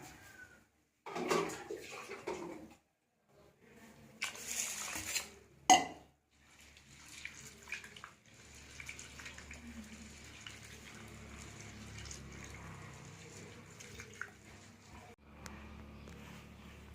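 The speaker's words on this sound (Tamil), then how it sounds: "இப்போ உளுந்த ஊற வச்சு நல்லா கழுவிக்கிறோம்" Soaked urad dal, black gram, being rinsed and rubbed in water in a bowl, with splashing, sloshing bursts and scraping against the vessel, then a steady running-water wash that continues to the end.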